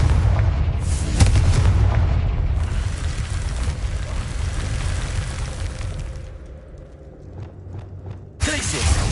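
Confringo blasting spell in Hogwarts Legacy, a loud crackling explosive burst with dense rumbling noise that decays over several seconds before a second sharp burst near the end.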